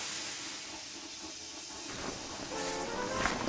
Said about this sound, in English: He was so scared, he let out a huge burst of steam